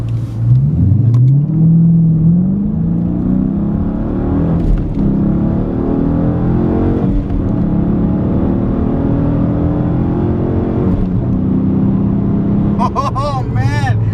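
A car engine fitted with a K&N air filter revs hard and accelerates, its loud rising drone climbing through gears for over ten seconds, heard from inside with a voice speaking briefly.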